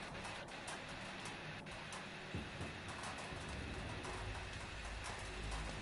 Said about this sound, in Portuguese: Olha a chuva caindo na lata, que da hora.